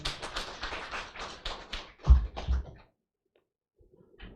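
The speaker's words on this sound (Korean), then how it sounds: "박수 부탁드리겠습니다" A gathered staff claps at a newspaper company's 2022 New Year opening ceremony, a dense burst of clapping lasting under three seconds before cutting off into near silence.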